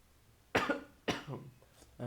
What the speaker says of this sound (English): Sorry, I'm coughing so much.